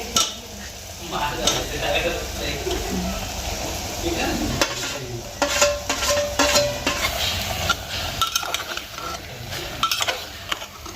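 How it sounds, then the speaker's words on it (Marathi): Stuffed eggplant (vangi) gets stirred in a sizzling pan, with uneven scrapes and clatters of a utensil against the metal over a constant frying hiss, all close up. "वांगे टाकल्यानंतर अशा हलवून घ्यायचे"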